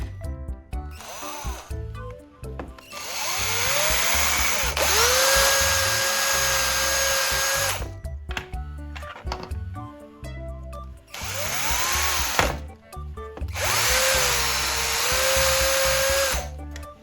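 A power driver tightens terminal block bolts onto a charger in repeated whirring bursts of a few seconds each, rising in pitch and separated by brief pauses, heard close and alone.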